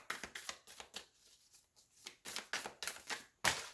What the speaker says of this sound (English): I'm trying not to shuffle these cards and have them like flip all over the floor